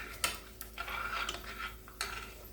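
Soft frying sizzle of plantains in a pan, with clinks of a utensil against the pan, a few sharp taps scattered over a low steady hiss.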